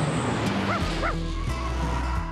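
A pet dog lets out a few short yips and whimpering barks, close and fairly loud, with steady room noise underneath.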